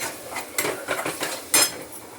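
A metal spoon scrapes and clinks irregularly against a cooking pot as wet vegetables are stirred up close, with no talking.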